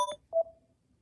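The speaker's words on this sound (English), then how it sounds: "That's my current ringtone." A Samsung Galaxy A03s ringtone plays a brief electronic melody: two quick bright tones, then a clear sustained note that fades away, heard alone in quiet.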